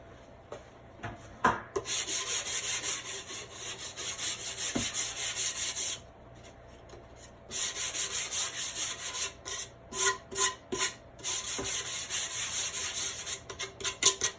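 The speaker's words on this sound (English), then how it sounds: "Then I'm going to take a sanding disc, which I have right here. This is just on a little rubber pad." Sandpaper disc on a small rubber pad rubbing over chalk-painted wood, repeated raspy scratching strokes in bursts with brief pauses, close and moderately loud.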